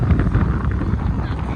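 Strong wind buffets the microphone at a seaside view near a hotel in Diu, giving a loud, continuous roar and rumble with no break.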